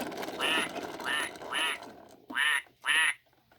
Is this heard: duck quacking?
yes